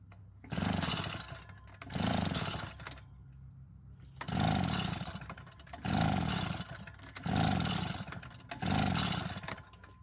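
A vintage Echo leaf blower engine is pulled over repeatedly, six loud rasping bursts at roughly regular intervals, each a brief sputtering crank that never catches, with quiet pauses between.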